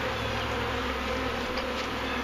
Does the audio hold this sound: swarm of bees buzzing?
yes